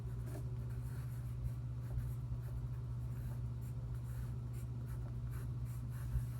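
Handwriting a name with a pen on paper, a soft continuous scratching held over a steady low hum, with no voices.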